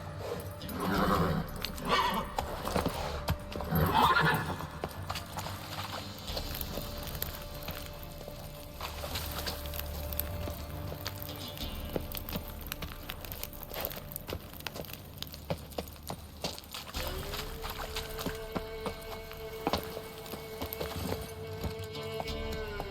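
A horse gallops in The Witcher 3: Hearts of Stone. Steady hoofbeats run beneath a dense bed of game music and ambience, moderately loud and continuous.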